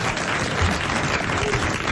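A studio audience on a 1987 French television show applauds, dense and loud clapping sustained evenly across the whole moment with no voices over it.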